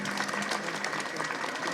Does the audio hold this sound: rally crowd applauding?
yes